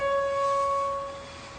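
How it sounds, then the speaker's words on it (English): OH bond stretch vibration shifted into the audible range, heard as a steady pure tone with a few faint higher partials, holding evenly and fading slightly toward the end. "this is the sound of the OH stretch translated into the audible range"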